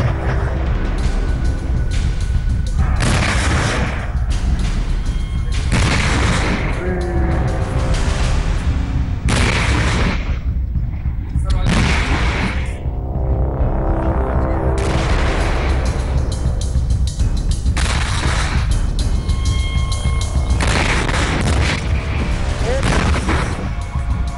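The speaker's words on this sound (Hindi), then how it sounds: "सिलेंडर से भरे ट्रक में जैसे ही एक के बाद एक 11 धमाके हुए" Repeated booming blasts from a burning truck loaded with gas cylinders on the Badrinath highway, loud and dense bursts one after another over roaring noise, with a news voice talking over much of it.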